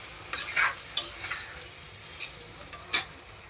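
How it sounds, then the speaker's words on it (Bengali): Spice masala for a paneer curry stirred as it fries in a pan, a low sizzle broken by several short scraping strokes of a spoon, close and with no voices. "দিয়ে মশলাটাকে ভালো করে একটু নেড়ে চেড়ে নেব"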